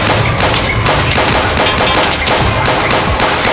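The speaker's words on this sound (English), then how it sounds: "After a barrage of gunfire," Dense, continuous gunfire crackles in rapid overlapping shots, loud and unbroken throughout.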